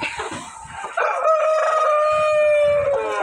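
A rooster crows loudly and close by over scattered clucking from many chickens in a broiler parent-stock poultry farm shed.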